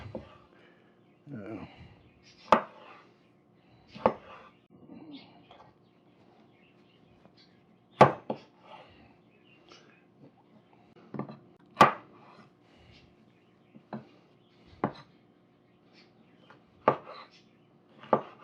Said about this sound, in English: We'll get these tomatoes diced up